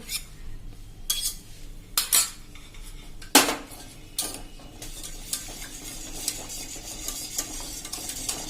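A spoon scrapes and clinks around a pan of Amul salted butter and cornflour in a homemade cheese mixture over a slow-to-medium flame, with several sharp metal knocks early on, then quieter stirring over a soft sizzle.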